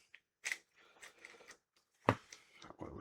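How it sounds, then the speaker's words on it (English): A knife or shears cuts through the mouth of a freshwater drum fish, giving a few sharp crunching snips at close range with quiet gaps and soft handling noises between them. "Cut through the mouth here."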